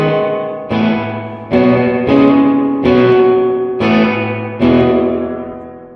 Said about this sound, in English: A big old spring reverb tone.